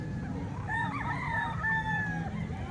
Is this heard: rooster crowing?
yes